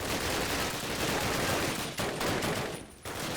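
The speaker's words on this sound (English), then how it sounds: "Stop shooting me." Dense, continuous gunfire in Call of Duty, a loud unbroken wall of rapid shots with brief dips near the end, no voices.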